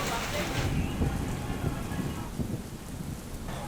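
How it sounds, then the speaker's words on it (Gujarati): Steady rainfall on Station Road in Vyara town, Tapi district, during a day-long downpour with waterlogged streets; a dense, continuous broadband hiss of rain holds close and moderately loud throughout, with no voices. "જિલ્લામાં સવારથી સાર્વત્રિક વરસાદ વરસી રહ્યો છે"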